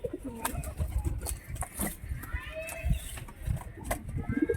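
Lotan pigeons coo steadily in a loft, soft low throaty calls repeating close by amid rustling and shuffling, with a few bird sounds overlapping throughout.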